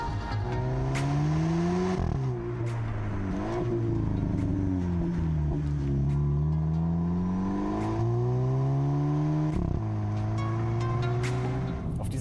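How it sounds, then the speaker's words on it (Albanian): A VW Polo GTI's engine gives an athletic roar while driving a winding road of tight bends, revs climbing and dropping repeatedly through gear changes, steady and close with no voices. "GTI lëshon një gjymim të kënaqshëm atletik"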